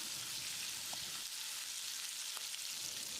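Vegetables for chicken jalfrezi fry in hot oil, giving a steady, even broadband sizzle throughout with a couple of faint clicks, no voices.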